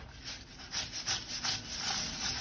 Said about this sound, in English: Just give it a scrub there.